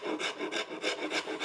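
Hand rasp filing, likely on wood, a close rhythmic series of about six rough strokes in quick succession, with no talking.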